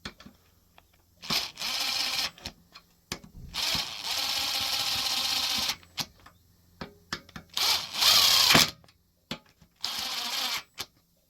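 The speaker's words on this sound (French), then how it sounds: "Voilà, là on va le serrer à la péteuse, enfin serrer, c'est juste contre." An impact wrench snugs a bolt on a Bolens mower in several separate close bursts of buzzing rattle, each lasting one to three seconds, with clicks and handling noises in the quiet gaps between.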